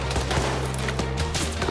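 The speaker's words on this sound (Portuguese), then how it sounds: "Tá muito tiro." Dense gunfire fills a firefight in the video game Arma 3, rapid overlapping shots forming a continuous loud fusillade throughout.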